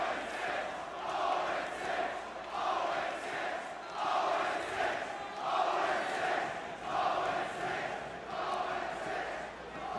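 Esports arena crowd at a Call of Duty winners bracket final jeering a player, a dense roar rising and falling in steady rhythmic surges like a chant, loud and continuous throughout.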